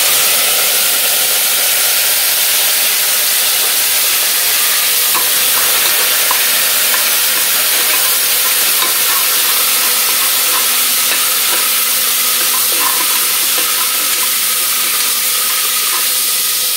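Fresh washed mint leaves frying in hot oil in a pot for chicken pulao, a loud, dense, continuous sizzle and hiss with faint stirring scrapes, no talking.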